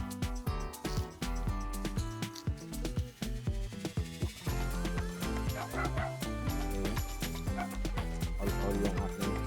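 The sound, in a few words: the vlogger's dogs barking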